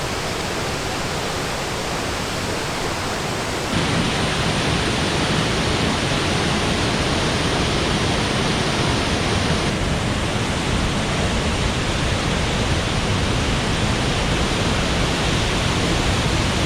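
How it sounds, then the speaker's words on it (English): Nooksack Falls, a waterfall in a rainy Washington rainforest, roars as a loud, steady broadband rush that continues unbroken throughout, with a slight lift in level after the opening few seconds. "this is Nooksack Falls"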